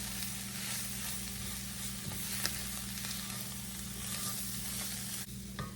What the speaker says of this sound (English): Into this, I'm going to put 2 tablespoons of flour. Mix that up good.